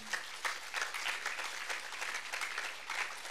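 An audience at a yoga gathering gives a round of applause, fairly faint and somewhat distant, with steady overlapping claps carrying on evenly throughout.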